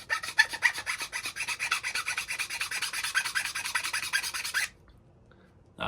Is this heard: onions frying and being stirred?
no